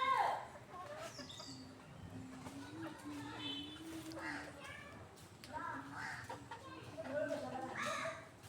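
Chickens cluck and call around a rural Bangladeshi homestead, with a rooster-like call early on. Scattered bird sounds recur under nearly continuous conversation.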